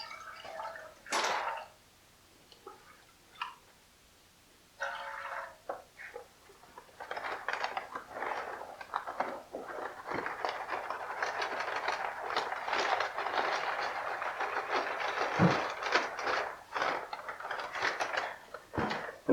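Wet scraping and sloshing of drywall compound being mixed with water in a pan, irregular clicks and scrapes building into steady mixing, close by.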